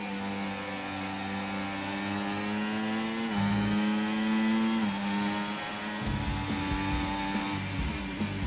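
An F1 car accelerating on overtake in the video game F1 24 at the Austria circuit, a high steady engine whine climbing through the revs with brief shifts, loud and close, no talking.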